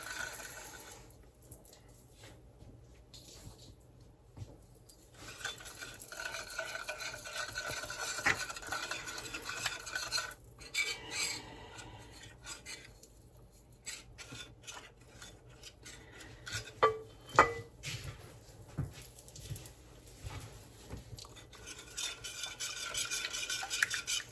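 Sourdough starter being stirred into water in a bowl gives soft, intermittent scraping and clinking of a utensil against the container, quiet and close, with occasional sharper taps.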